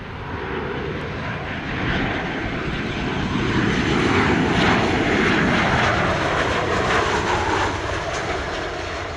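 A Sun Country airliner lands on runway 7 at Sangster International Airport in Montego Bay, Jamaica, its loud jet engine roar swelling to a peak and then easing off, with no voices.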